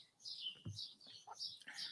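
Noisy birds chirp outdoors in summer, quick high tweets and calls repeating at close range, fairly faint against a quiet background.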